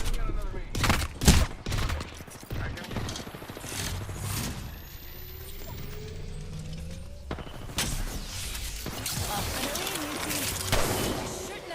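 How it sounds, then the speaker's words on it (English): Gunfire in the video game Apex Legends, a loud cluster of shots near the start followed by further bursts later, with in-game voice lines and game noise in between. "Opening fire on the enemy."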